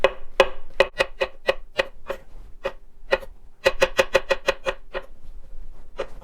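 Sharp, regular knife strokes slice through mushrooms on a cutting board, about a dozen crisp chops in quick bursts with short pauses, close and clear with no talking.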